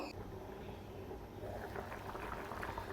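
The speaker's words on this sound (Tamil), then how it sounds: "எல்லாமே சேர்ந்து நல்லா கொதித்து எண்ணெய் பிரிஞ்சு வரட்டும்" Tamarind kuzhambu bubbles in a covered pot, a dense, continuous simmer of popping and gurgling that stays close and steady throughout.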